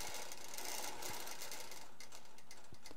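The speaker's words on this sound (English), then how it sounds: "Just move the machine, and the machine starts stitching left or right" A sewing machine stitching in a stitch mode gives a continuous, fairly quiet mechanical whir with faint rhythmic ticking throughout, steady and close, without voices.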